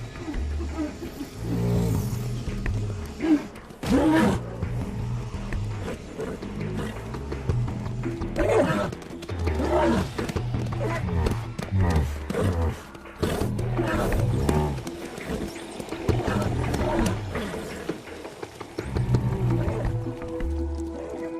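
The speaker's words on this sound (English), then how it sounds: "Leo locks onto a herd of creatures called unks." A herd of unks, alien creatures on the planet Darvin IV, roar and bellow in loud, overlapping calls that rise and fall continuously, several animals sounding at once with no pauses.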